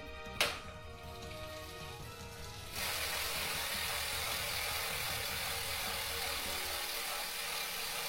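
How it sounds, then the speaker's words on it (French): A vintage Mercier bicycle with a new rear cassette, new tires and a new inner tube rolls along, its freewheel ticking at first before a steady, close whooshing hum of rolling tires takes over. "Magnifique bruit de roulis, pneus neufs, chambre à air neuve."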